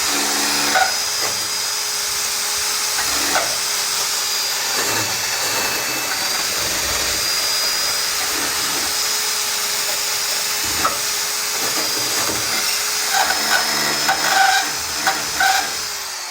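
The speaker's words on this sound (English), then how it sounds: "I'm just getting a Y wheel in there now to clean it" A wire wheel on a power tool scrubs bare sheet metal on a Chrysler Valiant AP6 body under rebuild, a loud continuous whining grind with scratchy fluctuations throughout, close up and without speech.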